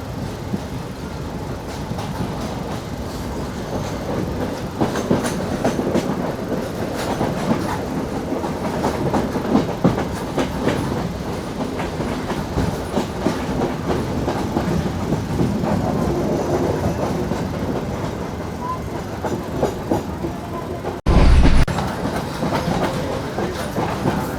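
A passenger train runs from Colombo to Mirissa in Sri Lanka along the coast, with a steady, loud rumble and rattle of wheels and carriages throughout and a brief louder thump near the end.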